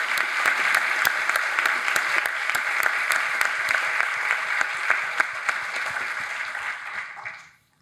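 Audience at an environmental panel discussion honoring Thomas Lovejoy and Edward O. Wilson claps steadily for several seconds, a sustained patter of many hands that fades out at the end.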